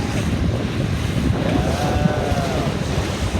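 Wind gusts steadily over a 29er sailing dinghy out on the water, a close buffeting rush into the microphone mixed with water wash against the hull.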